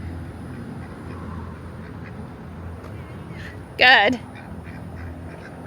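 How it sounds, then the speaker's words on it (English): Ducks give a single loud, close quack burst partway through, over low background noise, with a person speaking briefly nearby. "Oh, look at the duckies."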